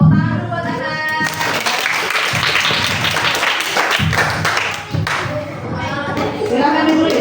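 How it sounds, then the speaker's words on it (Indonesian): Classroom applause for a student named Anas at an elementary school Islamic holiday program, with clapping and children's voices filling the room, lively and sustained throughout. "Tepuk tangan dulu buat Anas."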